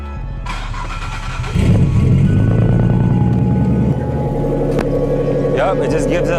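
A car with a deep-sounding engine and manual clutch starts up and rumbles loudly, holding a low, heavy idle before settling slightly; someone talks over it.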